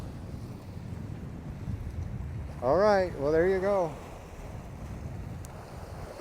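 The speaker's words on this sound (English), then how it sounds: "Yep, the waves are crashing." Ocean waves break on a shore in a steady broadband wash, partly masked by wind buffeting the microphone, while someone speaks briefly in the middle.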